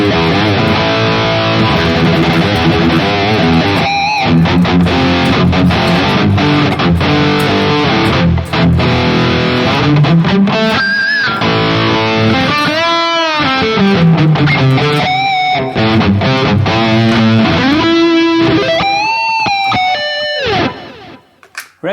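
A heavily distorted electric guitar through a Harley Benton DNAfx Git Pro high-gain preset plays sustained, saturated chords and bending lead notes, loud and thick throughout before cutting off at the end.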